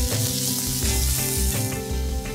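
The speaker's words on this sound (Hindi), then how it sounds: "अदरक लहसुन का पेस्ट एक चम्मच। अच्छी तरह फ्राई कर लीजिए इसको।" Ginger garlic paste sizzles steadily in a hot pan while being fried for bhuna chicken, a close, continuous frying hiss with slight stirring textures throughout.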